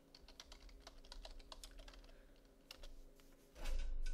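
Filename being typed on a computer keyboard: a quiet run of rapid key clicks, pausing briefly, then a few more taps before a louder thump at the end.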